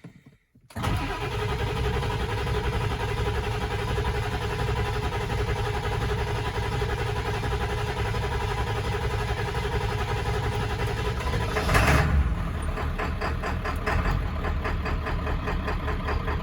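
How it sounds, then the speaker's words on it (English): A Ford 7.3 Powerstroke diesel engine, revived after sitting ten years, cranks and fires, then idles steadily with a slight knock, loud and close, with a brief surge near the end. "Sounds a little knocky at idle too"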